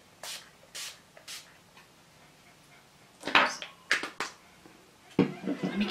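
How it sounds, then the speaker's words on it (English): A facial mist spray bottle gives several short, crisp hissing spritzes, a few faint ones followed by louder close bursts, with quiet pauses between them. "Just gonna do a light mist."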